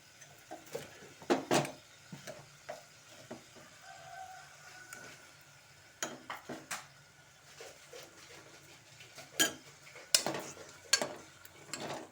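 Green chili and ginger garlic paste sautéing in a pan: a quiet background sizzle broken by intermittent scraping and clinking of a spatula against the pan, with no talk.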